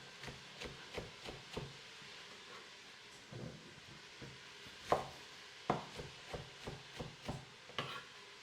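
A knife chops roughly through a single plantain on a board, a series of quiet, irregular knocks and cuts spaced over several seconds against faint background hiss.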